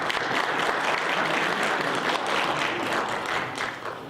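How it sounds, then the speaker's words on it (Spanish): Loud, close applause from an audience: continuous, dense clapping that stays strong and then eases slightly toward the end. "Un aplauso para nuestros participantes."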